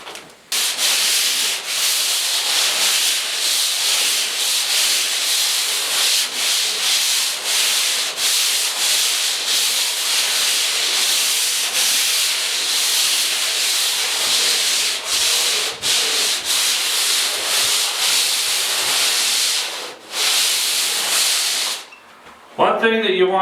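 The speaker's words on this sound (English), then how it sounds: "Give this a bit of a sand" Hand sanding of drywall joint compound in a basement bedroom renovation, a steady, close, loud abrasive rasp of strokes running nearly continuously, with brief pauses near the end.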